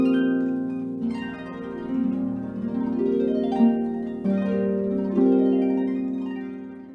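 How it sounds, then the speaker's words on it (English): A harp plays flowing glissandos, rippling sweeps of plucked strings rising and falling over a sustained low ring, bright and moderately loud with no voices. "Now the harp sounds a bit like this."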